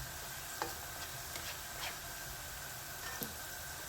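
Onions frying in oil in a home kitchen, a continuous soft sizzle with a few light ticks and stirring taps close by.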